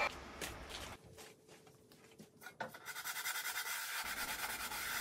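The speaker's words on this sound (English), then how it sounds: "Then I basically lock it in my lathe and sand all of the corners by hand." A wooden bowl, locked in a lathe, has its corners sanded by hand: soft, steady abrasive rubbing strokes, close and quiet, with a brief clunk partway through and no talking.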